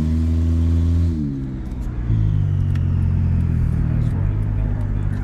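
Turbocharged automatic Honda Civic running on about five pounds of boost, its engine droning steadily as it shifts through the gears, with pitch dropping after each shift and a low mechanical hum as the turbo winds down.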